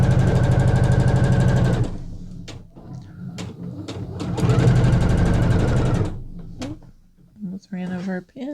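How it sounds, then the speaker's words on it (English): Sewing machine back stitching at the pocket of a dress, running in two long steady bursts with a pause and stop-start bumps of fabric handling between them, close and loud, with a voice talking briefly near the end. "so we'll do a little back stitch because that's another high stress area"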